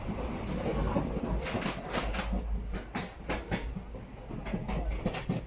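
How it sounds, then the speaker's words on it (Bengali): A train slowing down as a sound effect in a Bengali ghost audio story: rhythmic clickety-clack of wheels over rail joints with a low rumble, close and steady, the beats spacing out slightly. "ট্রেনটা আস্তে আস্তে তার গতি কমিয়ে আনতে শুরু করেছে।"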